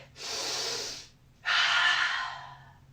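A deep breath during a kids' yoga Warrior 2 pose: a long, loud inhale, a short pause, then a strong, airy exhale, close and alone.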